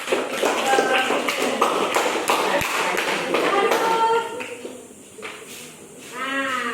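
A group of students in a classroom claps, producing a quick run of sharp, overlapping claps for a few seconds with voices mixed in, before the clapping fades and a voice continues.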